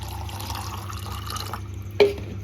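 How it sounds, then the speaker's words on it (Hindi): Water poured into a glass of gond katira sharbat, a soft steady trickle under faint background hum, ending in a sharp splash or drip near the end. "पानी थोड़ा सा ज़्यादा ऐड कर देंगे,"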